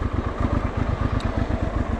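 Honda Transalp 650 motorcycle engine idling warm, a steady low throbbing pulse running continuously and close, fairly loud with no voices.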